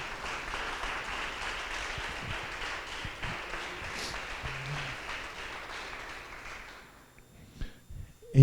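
A church congregation applauds in a steady, broadband wash of clapping that carries on for several seconds, moderately distant, before fading away.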